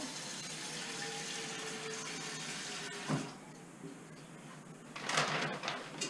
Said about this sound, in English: I'm going to add just a little bit more water to it.